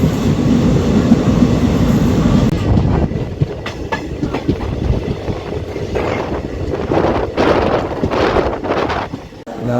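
Train rumbling loudly through Palani railway station in Tamil Nadu, a steady heavy roar of wagons with clattering rail joints that eases slightly toward the end.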